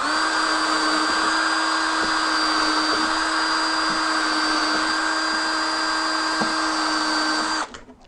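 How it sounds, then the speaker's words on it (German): A power drill whines steadily at high speed for several seconds, drilling wood for a Zander beehive box, close and loud, with faint ticks underneath before it spins down at the end. "Angebohrt eine Seite, angebohrt zweite Seite."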